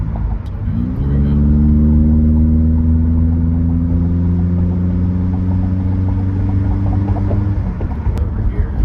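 Steady engine drone from a V8 Pontiac Grand Prix with a 5.3 LS4, rising quickly to a smooth, even hum that holds for several seconds before cutting back, heard up close with no talking.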